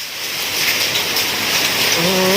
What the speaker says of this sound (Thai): เป็นก้อนเป็นก้อนเลยนะครับ ลูกเห็บ